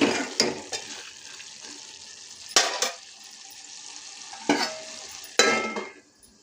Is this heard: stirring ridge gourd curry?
yes